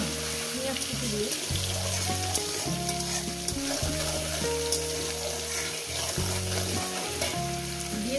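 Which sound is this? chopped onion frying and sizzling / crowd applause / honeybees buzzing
chopped onion frying and sizzling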